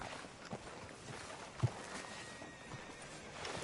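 Horse hooves clop softly on the ground in Red Dead Redemption 2, a quiet, uneven walking rhythm with a couple of sharper thuds against faint ambient background.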